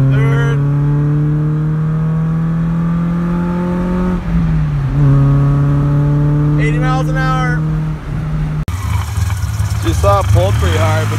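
A BMW E30 engine pulls hard in second gear, its loud steady drone climbing in pitch, dropping at a shift, then rising again before a sharp cut and rougher noise at the end.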